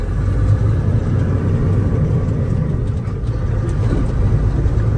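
A 2001 Kenworth W900 truck with an 18-speed transmission idles and rolls with a deep, steady diesel rumble, close and continuous for a few seconds, no talk.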